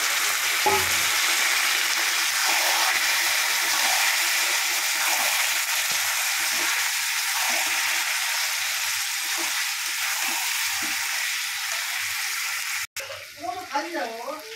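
Mutton sizzles steadily in a hot pan with browned garlic, a loud continuous frying hiss that runs on with little break, ending in a short burst of stirring and bubbling.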